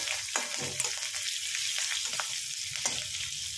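Panch phoron spices and four or five chilies crackling in hot oil: a steady, dense sizzle with sharp pops and spits scattered throughout, close and fairly loud.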